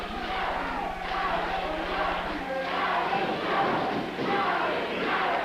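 Wrestling arena crowd hollering and roaring in a steady, dense wash throughout, with swelling peaks and mixed shouts, heard close and continuous, during a tag-team match between the Fabulous Fargos and Coastal Connection.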